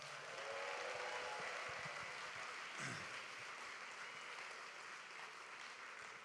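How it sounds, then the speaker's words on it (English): A large fundraising-gala audience applauds cancer survivors with a soft, distant, continuous patter of clapping that holds steady throughout. "Give them a round of applause."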